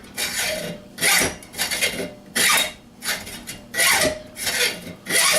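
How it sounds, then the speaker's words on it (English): A Harbor Freight hacksaw blade cuts through 3/8-inch-thick steel, giving a close, loud rasping stroke roughly every half second to second in an even back-and-forth rhythm, with no one talking. "This piece of steel is a good 3/8 of an inch thick. And I'm zizzing right through it."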